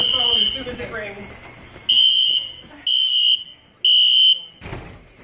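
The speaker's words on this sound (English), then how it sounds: "Disable the fire alarms." A loud church fire alarm blares in repeated shrill bursts, about four pulses with short gaps, over indistinct voices and room noise.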